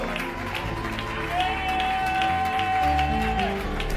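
A church congregation at a Sunday service applauds and acclaims, a steady wash of clapping and crowd voices with music tones running underneath.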